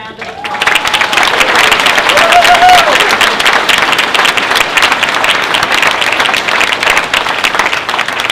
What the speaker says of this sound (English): Please give our first group of students another round of applause.